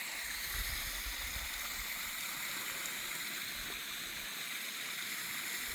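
Water flows steadily from a farm well on red-soil farmland, a soft continuous rushing and gurgling, faint and even throughout with no voices.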